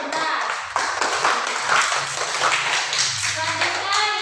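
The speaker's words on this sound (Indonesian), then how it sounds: "tepuk tangan untuk kedua kelompoknya kalau benar" A classroom of students clapping their hands for two groups during a lesson, a brisk run of claps with a voice briefly heard beneath.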